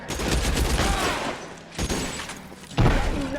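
Rapid bursts of gunfire ring out in an L.A. Noire shootout, loud dense volleys in two stretches broken by a short lull, ending on a heavy close blast.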